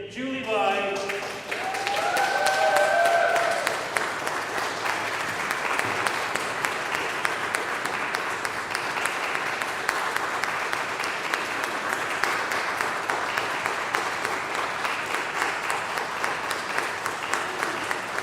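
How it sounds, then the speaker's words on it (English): Audience applause for musicians after an evening organ and carnival-themed Halloween concert, a full room clapping steadily for many seconds, with a speaker's voice heard briefly at the start before the clapping swells. "I want to invite the musicians to come forward for one more round of applause"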